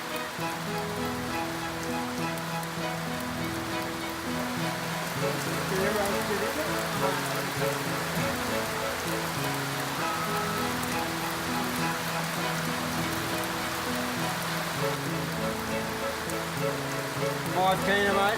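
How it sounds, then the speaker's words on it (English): Steady rain falls on the Kokoda trail in Papua New Guinea, a dense, continuous patter with faint music-like tonal layers running underneath throughout, growing slightly louder toward the end. "The rain then set in."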